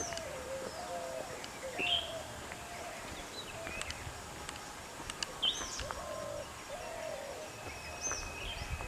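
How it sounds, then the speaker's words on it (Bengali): Faint birds chirp and call here and there across a quiet forest valley, with soft wind-like hiss underneath. "বাতাসের শব্দ ও পাখির ডাক ছাড়া আর কিছুই এখানে পাওয়া যায় না"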